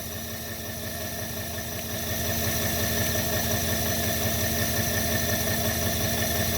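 An engine held at maximum drive during a power demonstration, a loud continuous mechanical hum with a rapid pulsing vibration that swells slightly after two seconds and then holds steady.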